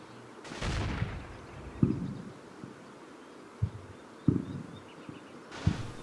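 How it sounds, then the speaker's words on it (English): Small arms fire in the Combat Mission WWII tactics game, several sharp isolated cracks spaced a second or two apart over a steady low ambient battlefield hum, with a brief louder rumble near the start. "small arms fire from this tree line takes out a member of the machine gun team here"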